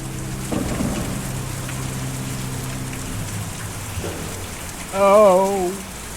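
Rain falls in the video game Kentucky Route Zero, a steady wash of drops with a low thunder-like rumble early on, and a short wavering tonal call rising near the end.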